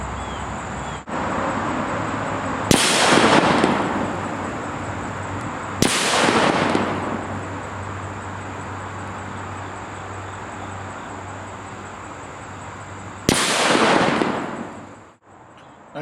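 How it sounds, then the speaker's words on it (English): Three sharp CETME rifle shots firing .308 150-grain full metal jacket military rounds at a steel target 50 yards away, each a loud crack with a long rolling echo, spaced several seconds apart outdoors. "that was from 50 yards with full metal jacket military ammo"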